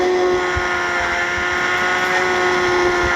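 Motorbike ridden at speed, a continuous loud engine whine with a steady tonal hum and rough low rumble throughout, close and without pause.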